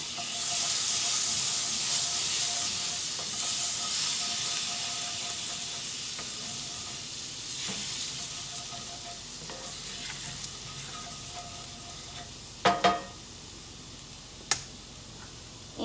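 Minced garlic, about two cloves, hits melted butter in a pan with a loud bright sizzle that slowly settles into a steadier hiss, with a few sharp utensil clinks near the end.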